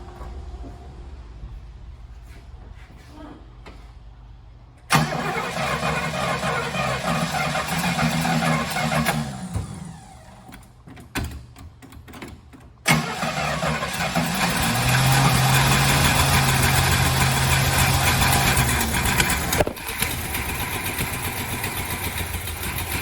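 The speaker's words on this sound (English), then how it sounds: "I'm going to turn the engine and we'll bring the thunder" A 1967 Oldsmobile 98 V8, primed with gas down the carburetor, cranks and catches, then idles loudly with a rough uneven rumble, stalls briefly, and restarts into a steady idle before stopping again.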